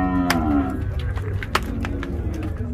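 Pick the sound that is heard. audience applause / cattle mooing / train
cattle mooing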